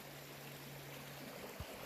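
A small creek flows past a campsite, a faint, even wash of running water with a single soft thump near the end.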